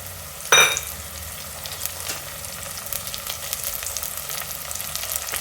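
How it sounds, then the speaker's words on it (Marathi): Finely chopped eggplant tipped into a pan of frying onions, opening with a sharp burst of sizzle that settles into steady crackling fry, close and moderately loud, no talking. "हे बारीक चिरलेलं वांग आपण टाकून घेते."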